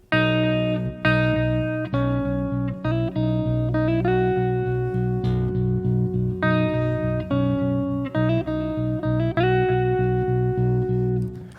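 Electric guitar plays the riff at tempo, picked notes with hammer-ons and slides in a steady rhythm over ringing lower strings, close and full with a light overdriven tone and no talking.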